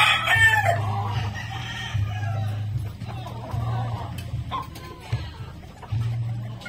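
Golden Boy cross gamefowl, a roughly three-month-old banded rooster, with a crow near the start followed by repeated low clucking calls from nearby fowl, moderately loud, with some faint background noise.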